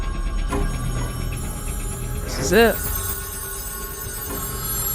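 A telephone rings once briefly in a scene from the series Fallout, a short warbling electronic trill standing out midway against a low background hum, with people talking around it.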